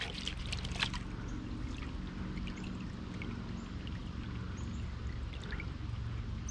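Creek water swishing and sloshing around in a gold pan, a steady close, watery churn with small splashes over a constant stream rushing in the background.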